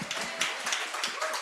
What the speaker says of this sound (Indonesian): Kalau tepuk tangan jangan nanggung-nanggung dong.